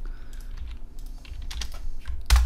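Git commands typed on a computer keyboard, a quick, close run of key clicks over about two seconds ending in a firmer keystroke, with no speech.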